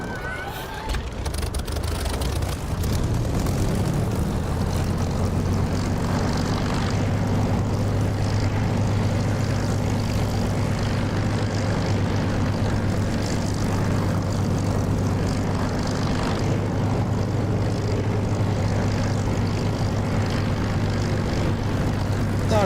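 A Spitfire's piston engine and propeller in the DCS flight simulator drone loudly and steadily throughout, a constant close roar with a strong low hum and no talk.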